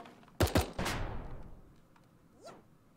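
Explosive blasts from barrels being shot in Super Animal Royale, a rapid cluster of two or three sharp bangs followed by a rolling boom that fades, then a faint whoosh.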